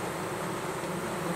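Russian honey bees buzz in a dense, continuous swarm during a hive inspection for varroa mites, a close, even drone of many wings with no break.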